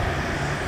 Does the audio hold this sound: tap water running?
no